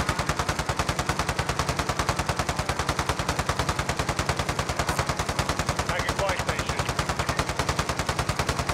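Rapid, steady automatic gunfire from a multiplayer shooting video game, loud and continuous with evenly spaced shots throughout.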